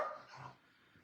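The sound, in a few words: dog barking indoors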